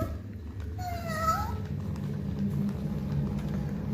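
A children's toy cat meows when its button is pressed, giving one short rising electronic meow near the start over steady background noise, close and alone with no talk.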